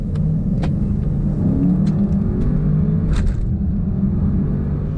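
A 2020 Audi RS6 estate accelerating hard from 30 to 70 mph, its engine giving a loud, continuous rumbling roar that builds through the sprint, heard from inside the car with no talk.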